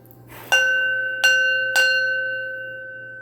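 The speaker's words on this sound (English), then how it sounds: "I'm ringing the bell." A small bell is struck three times, close by, and each clear ringing tone lingers and slowly fades.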